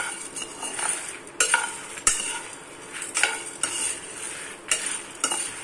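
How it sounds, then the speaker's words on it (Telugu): Rasam masala spices roasting in a pan at close range, with repeated scraping strokes of a stirring spoon against the metal over a steady dry sizzle. No one speaks. "మసాలా అయితే బాగా వేగిపోయింది"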